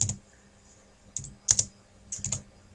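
Several quiet bursts of computer keyboard keystrokes, a few isolated clicks followed by quick clusters of taps, close and alone while a blog URL is typed.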